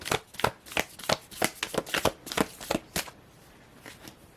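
Tarot cards riffle and slap together in quick, rhythmic bursts, a dozen crisp shuffles close by, then a pause and a few softer taps.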